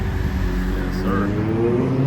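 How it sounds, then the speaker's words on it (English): Thursday-afternoon city traffic on a Zurich street, with a car engine passing close by in a continuous rumble that swells toward the end. "Classy Zurich Thursday afternoon traffic."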